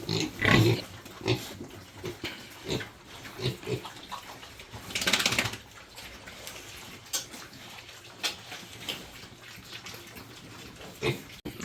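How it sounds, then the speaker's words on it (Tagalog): Piglets on a pig farm feed noisily, with scattered grunts, snuffling and slurping bursts of varying loudness over a continuous messy background, one louder flurry near the middle. "ito na yung mga biik ko"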